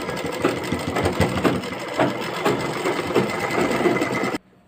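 A sewing machine stitches piping onto a garment shoulder with a close, steady whirring and regular mechanical pulses, then stops abruptly at the end.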